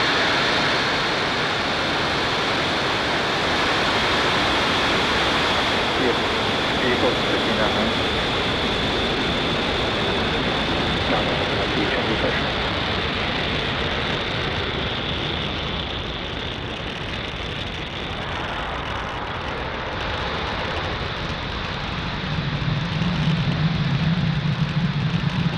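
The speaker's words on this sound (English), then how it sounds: "engine full power, and lift off of Starlink" A SpaceX Falcon 9 rocket lifting off on a Starlink mission from Space Launch Complex 40 at Cape Canaveral, Florida, a sustained broadband roar that stays loud and steady throughout with a deeper rumble swelling near the end.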